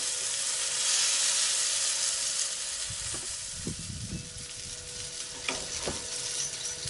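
Breakfast food frying on a Coleman camp stove, a steady bright sizzle with occasional soft knocks and scrapes as pieces are moved in the pan.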